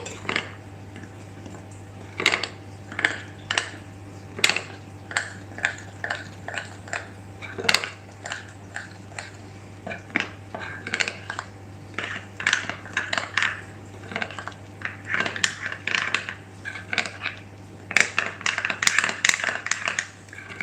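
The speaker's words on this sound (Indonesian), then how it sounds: "Ini kita aduk dulu." Premix batter for fried onde-onde being stirred in a bowl with water, a rapid run of light taps and scrapes from the utensil against the bowl's sides over a low steady hum.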